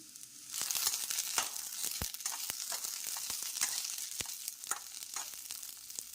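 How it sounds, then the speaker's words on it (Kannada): Garlic, ginger and cinnamon fry in a hot pan for mutton sambar, giving a soft continuous sizzle broken by frequent sharp crackles and pops, close up with no speech. "ಬೆಳ್ಳುಳ್ಳಿ, ಶುಂಠಿ ಎಲ್ಲವೂ ಹಾಕಿ ಹುರ್ಕೋಬೇಕು."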